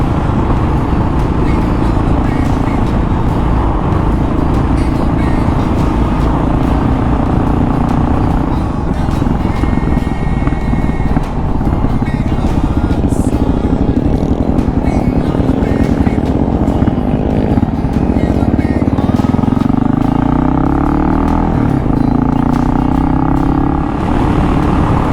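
A Kawasaki KLR motorcycle engine drones steadily while riding a trail in Otago, loud and close, with the pitch rising and falling through gear changes toward the end.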